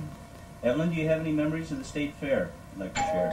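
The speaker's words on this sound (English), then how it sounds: "Open the door, somebody. That's our doorbell." A doorbell chimes in a home, a short series of ringing tones partly overlapping a person who is asking a question.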